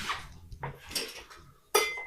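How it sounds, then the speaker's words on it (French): Old saucepans and pots clank and knock as they are handled on a rack in an old family kitchen, with scattered metallic clatters and a sharp, loud ringing clang near the end. "Le vieux porte-casserole. Avec toutes les casseroles."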